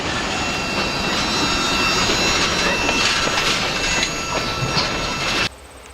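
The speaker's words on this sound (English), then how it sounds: "Let's listen to the power coming down the rail." A train runs along the rail track nearby, giving a loud, steady rumbling roar with rhythmic wheel clatter and a high metallic ring from the rails, holding until it cuts off abruptly near the end.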